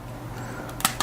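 The battery cover of a PSP 2001 handheld snaps into place, heard as two or three sharp, close plastic clicks near the end over faint background hum.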